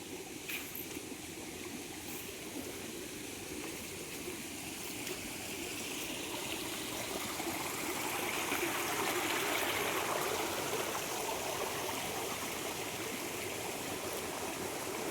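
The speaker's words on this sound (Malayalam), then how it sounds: "ഇപ്പോൾ ഒരു പറമ്പിൽ നിന്നാണ് വെള്ളം വരുന്നത്." Floodwater pours across a field in a steady broad rushing wash, a continuous close hiss that swells slightly louder midway and never lets up.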